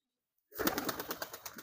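White pigeons kept in a loft for flying tournaments flap and coo close by, a burst of wing and bird noise starting after a short silence and continuing in uneven pulses.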